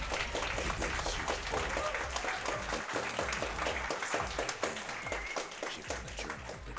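An audience applauds at a speedrun gaming event, with dense, sustained clapping from a crowd.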